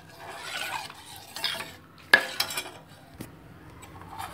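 A spoon stirs carrot pudding in a pan over low heat on the stove, with soft scraping and clinking against the metal and a sharp knock partway through.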